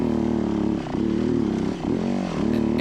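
A dirt bike engine is held on the throttle through a rutted trench at Moon Rocks, droning loud and close with a few dips and surges in pitch as it bogs and recovers. No voices are heard.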